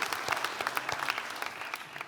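Applause from a studio audience at a TV comedy talk show: brief, uneven clapping with distinct individual claps, moderately loud and tapering off toward the end.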